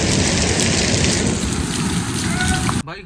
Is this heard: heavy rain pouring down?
yes